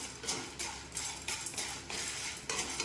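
Chana dal and eight dried red chillies roast in a dry pan, rattling and scraping in quick bursts as a utensil stirs them, close and fairly soft with no talking.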